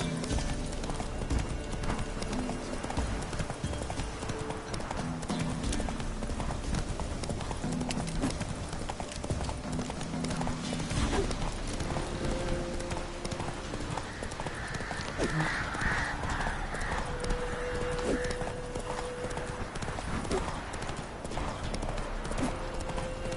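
Roach, a horse in the video game Witcher 3, gallops with a steady, loud clip-clop of hooves throughout, joined by an occasional whinny and steady ambient game sound.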